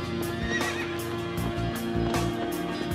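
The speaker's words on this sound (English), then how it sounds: "On the new shoreline of the expanding sea wanders a pack of wild horses" A pack of wild horses roaming a new seashore calls out with a prominent whinny, with soft clip-clop of hooves and a steady bed of ambient sound running underneath.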